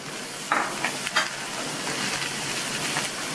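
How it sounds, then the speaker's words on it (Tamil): A quarter kilo of peeled, cut radish sautés in oil with onion and garlic. A dense, even sizzle carries a few brief scraping and clattering stirs early on. "இந்த எண்ணெயிலேயே நல்லா ஒரு 2 நிமிஷத்துக்கு இந்த முள்ளங்கியை வதக்கிக்கணும்"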